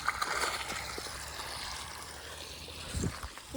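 Water runs from a pumped pipe into a village field, giving a steady outdoor rushing and gurgling flow at moderate distance, with a brief splashy burst near the end.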